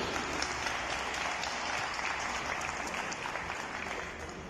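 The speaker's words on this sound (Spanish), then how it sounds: "Vamos a dar un fuerte aplauso, por favor." Fairly quiet, continuous applause from a gathered audience at a welterweight boxing weigh-in, a steady wash of clapping that fades slightly toward the end.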